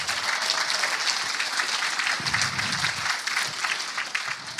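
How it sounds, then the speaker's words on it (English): Conference audience applauding the speakers, a dense, steady wash of clapping from a crowd filling the room for several seconds. "Let's give a round of applause to all these amazing speakers and information you've heard."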